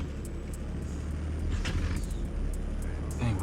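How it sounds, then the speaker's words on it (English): A truck engine idling and revving in Cyberpunk 2077, a low steady rumble with brief louder surges, heard alone without talk. "This truck sounds so fucking nice."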